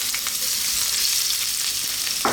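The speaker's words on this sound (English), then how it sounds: "we're going to start off by dropping in ginger" Ginger drops into hot oil already used for frying fish and sizzles in a loud, steady, close hiss that barely varies, ending with a faint knock.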